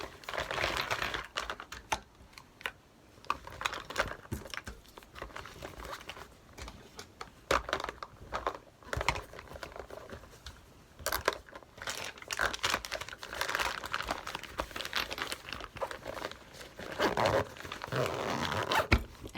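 Items being packed back into a JuJuBe Be Dapper diaper bag: irregular close rustling, crinkling of wrappers and soft knocks of objects shifting, with bursts of busier handling and no talk.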